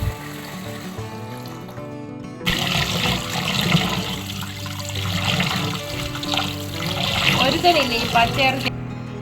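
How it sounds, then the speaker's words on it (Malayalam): Rice being washed clean in water for a beef biryani, heard as running and splashing water that starts after a quiet opening and sloshes steadily at close range until it stops near the end. "ഇനി അരി നല്ല വൃത്തിയായിട്ട് കഴുകണം"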